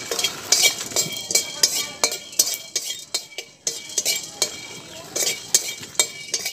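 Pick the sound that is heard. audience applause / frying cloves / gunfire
frying cloves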